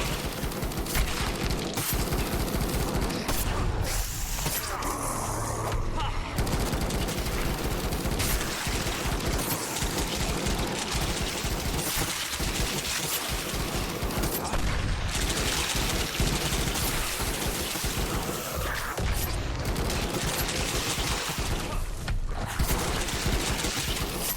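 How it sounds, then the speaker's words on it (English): Airstrike explosions and gunfire in the video game Night of the Dead, a dense, continuous barrage of rattling machine-gun fire and booming blasts that stays loud throughout, with no talking. "drop airstrikes on this laboratory"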